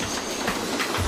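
A subway train near Yankee Stadium rumbles past, loud and close, with rhythmic wheel clatter over the rails and no voices.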